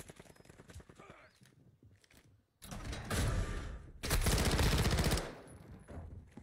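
PDSW submachine gun firing in a video game, loud sustained bursts of rapid automatic fire in two long stretches, preceded by quieter game sounds and a short silent gap.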